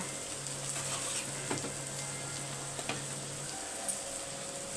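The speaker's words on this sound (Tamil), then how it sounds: "இந்த ஆனியன் பாதி வதங்கினா போதும் ஓகேவா" Onions sautéing in a pan for chicken gobi manchurian, a steady, even sizzle with a few soft stirring knocks and no voices.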